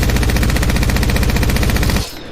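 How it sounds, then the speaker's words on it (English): An Apex Legends weapon spins up and fires a rapid, steady stream of loud shots for about two seconds, then cuts off abruptly into a short fading tail. "as you're shooting and it starts to rev up and build like it just did"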